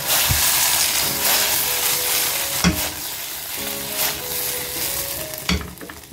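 Boiled noodles tossed and stirred in a hot pan with vegetables for veg hakka noodles, a steady sizzle and fry punctuated by several sharp scraping and tossing strokes, close and loud.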